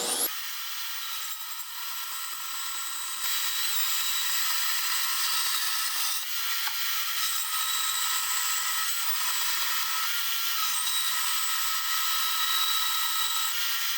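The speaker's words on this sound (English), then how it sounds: "Bring it over to the portable bandsaw, over the bandsaw stand, and we'll cut it out." A portable bandsaw on a stand cuts through a metal piece for a crash-damaged exhaust repair, giving a steady, loud, close grinding hiss that runs continuously with slight shifts in intensity.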